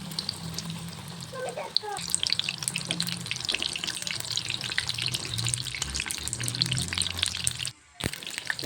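Battered fritters fry in oil in a wok, giving a steady crackling sizzle with splashy watery bursts throughout, briefly cutting out near the end before resuming.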